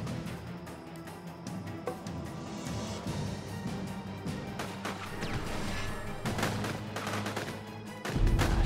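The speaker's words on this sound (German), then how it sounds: "Shit, da kam der eine Schuss noch angeflogen." Gunfire in the video game Judgment pops and cracks amid busy, loud in-game action, with scattered sharp impacts and a heavier burst near the end.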